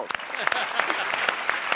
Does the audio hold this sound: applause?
yes